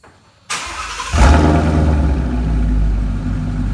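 A modified car engine with an X-pipe and Roush axle-back exhaust cranks briefly, then fires up with a loud, deep roar that settles into a steady, rumbling idle.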